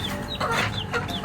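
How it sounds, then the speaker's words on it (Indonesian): A chicken clucks several times in quick succession, close and clear, with a few short higher chirps among the clucks and no talk. "makhluk hidup yang akan kami angkat pada hari ini adalah hewan ayam"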